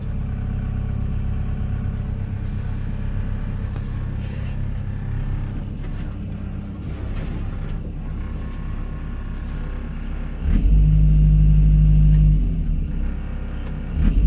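A 2005 Komatsu PC160 LC-7KA excavator engine idles with a steady low rumble, then the throttle opens and it revs louder for about two seconds before settling back.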